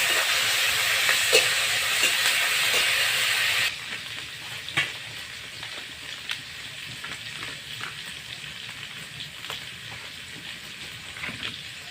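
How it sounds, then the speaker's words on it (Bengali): Onion, ginger and garlic hit hot oil with a loud, hissing sizzle that abruptly drops to a softer, steady crackle, broken by occasional stirring scrapes and taps, close up and without speech. "এখন আমরা আদা রসুন দিয়ে দিচ্ছি"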